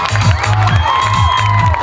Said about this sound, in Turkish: Önce, önce bu gruba bir alkış, bir alkış, bir alkış.